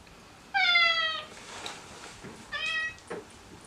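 A house cat meows twice, close and clear, two drawn-out calls separated by a short pause.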